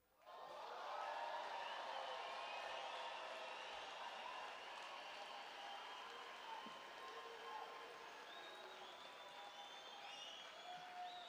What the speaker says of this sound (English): Their success, coupled with your pride, certainly calls for applause.